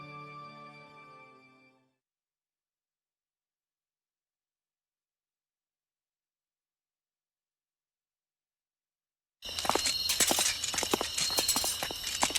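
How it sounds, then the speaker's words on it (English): Footsteps at night in the visual novel Steam Prison: after a brief musical tone and a long silence, quick, clattering steps begin, loud and close. "I could hear our footsteps in the night"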